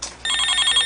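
A mobile phone rings loudly and steadily in a repeating electronic ringtone pattern, close and alone after a brief quieter start.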